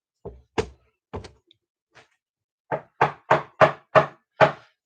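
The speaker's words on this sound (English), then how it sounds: "I heard a knocking at the door." Loud, sharp knocks on a door, first a few scattered raps and then a quick run of six heavy knocks, close and clear with no voices over them.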